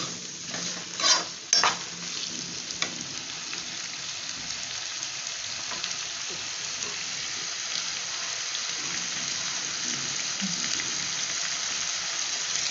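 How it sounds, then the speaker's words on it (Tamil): Raw banana slices fry in a pan with a steady, close sizzle and hiss throughout, broken early by a few sharp clinks of stirring. "கொஞ்ச நேரம் அது பொரியட்டும் கொஞ்சம் நல்லா பொரியட்டும்"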